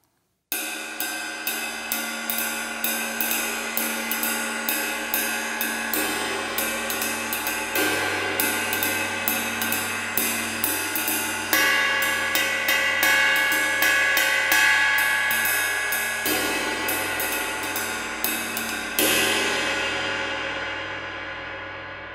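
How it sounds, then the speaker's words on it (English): A vintage cymbal cleaned with Zilco Session A Shine is struck repeatedly in a steady series of bright metallic hits, each leaving a long shimmering ring that builds into a sustained wash before fading out. "let's listen to this cymbal after several applications of Session A"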